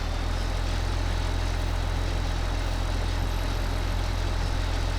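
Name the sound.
Ford tractor engine struggling under heavy load, Farming Simulator 2015 video game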